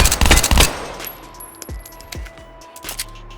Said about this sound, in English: I believe this is the burst pistol.